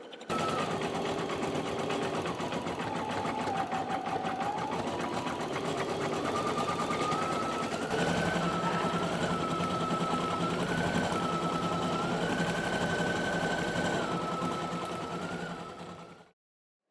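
An embroidery machine stitches a design of over 5,300 stitches, giving a steady, fast, loud mechanical whir and needle patter. It runs continuously and close up, with shifting tones, and stops abruptly near the end.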